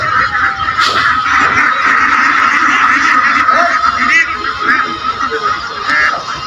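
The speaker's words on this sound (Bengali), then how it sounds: "দেখতে থাকুন কত হাঁস" A dense, continuous chorus of duck calls from a large flock on a duck farm, steady and busy throughout, with no clear pauses.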